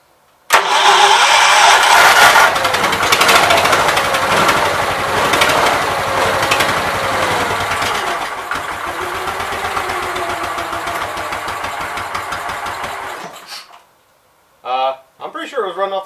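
An old Case Ingersoll 222 garden tractor engine runs steadily and loudly for about thirteen seconds, then cuts out, followed by brief talking.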